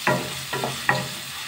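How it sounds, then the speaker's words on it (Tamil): Onion and curry leaves are stirred in a pan for ragi upma: three quick scraping strokes over a soft, steady sizzle, close and clear, with no talking. "நல்லா மிக்ஸ் பண்ணிடலாம்"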